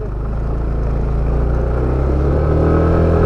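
Motorcycle on a steep narrow road in Calauan, Laguna, its engine droning loud and close with a steady low rumble that slowly builds in pitch as it revs, no speech over it.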